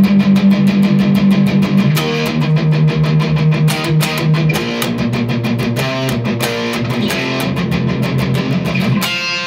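Electric guitar plays the verse of a song, a loud, steady run of chords and rhythmic strums with no talking over it.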